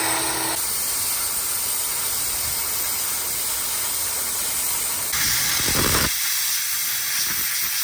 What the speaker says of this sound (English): This is probably the 5th time I've ever even used a plasma cutter